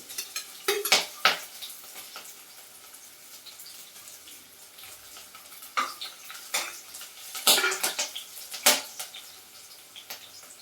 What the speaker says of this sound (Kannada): ಇದು ಫ್ರೈ ಆದಮೇಲೆ ಇದಕ್ಕೆ ಬೆಳ್ಳುಳ್ಳಿ 1 ನಿಮಿಷದ ಕಾಲ ಫ್ರೈ ಆಗಬೇಕು.